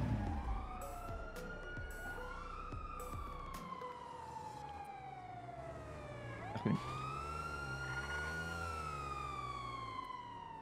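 Several police sirens in the video game GTA 5 wail with long rising and falling tones, overlapping and sweeping, heard at a moderate distance over a low engine rumble.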